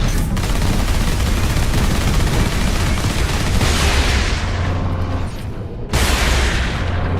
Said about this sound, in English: Blast cannon's coming in super handy.